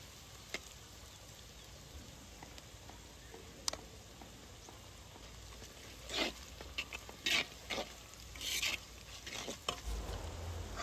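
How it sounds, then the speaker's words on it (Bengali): Green chillies, chilli powder, turmeric and salt are stirred in a pot over a clay stove for village-style beef curry, with soft sizzling and sporadic spoon scrapes, faint at first and busier later. "ভালোভাবে এটাকে নেড়ে দিয়ে এখানে দিয়ে দিচ্ছি আদা বাটা"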